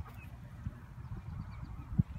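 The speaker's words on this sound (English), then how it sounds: "These are the two geese from the goose run." Two geese in a goose run, one with a torn foot, give a brief low honk near the end, over steady outdoor background noise in a farmyard.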